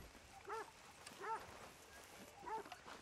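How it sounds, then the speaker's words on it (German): A dog in Red Dead Redemption II barks three times at night, short sharp woofs spaced apart over quiet game ambience, moderately distant. "Irgendwas scheint der Hund zu haben."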